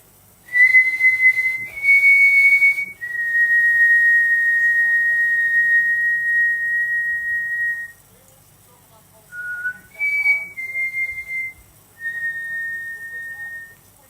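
A person whistles a tune in a series of clear, sustained single notes with brief pauses between phrases. The whistling is close and stands alone over faint background noise.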